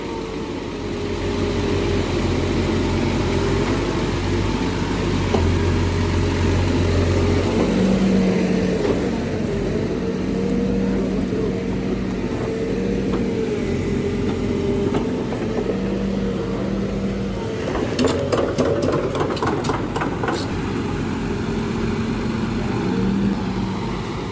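A new Bobcat E55 mini excavator runs steadily at a constant engine drone, with a brief burst of rattling clatter near the end and no talk.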